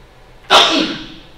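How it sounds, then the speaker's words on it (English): A single loud, close sneeze bursts out sharply in a classroom and trails off with a breathy tail. "and I'm sneezing over here."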